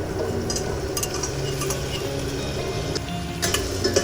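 Tomato going into a pan of Tamil garlic curry (poondu kozhumbu), with a steady sizzle and frying hiss throughout, a few stirring scrapes and light clinks of a utensil against the pan, no talking.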